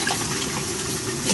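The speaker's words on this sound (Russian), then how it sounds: "я заливаю сюда воду" Water pouring from a bucket into the water tank of a steam generator on a sauna stove, a steady close gush of liquid filling the tank without pause.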